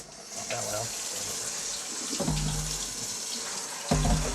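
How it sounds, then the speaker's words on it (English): Water runs steadily from a kitchen tap into a sink while an air fryer basket is rinsed, a loud continuous hiss with splashing changes, brief voices and clatters over it. "Turn on water."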